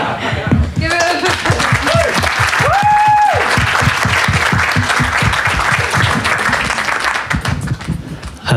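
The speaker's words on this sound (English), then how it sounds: "we'll do a round of applause first" An audience breaks into a round of applause at a dance music talk, loud and sustained clapping with some chuckles and laughter and a couple of brief tonal sounds near the start.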